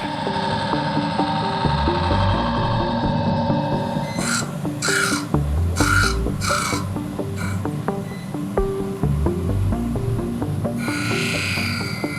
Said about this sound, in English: I use the surface grinder to get everything flat.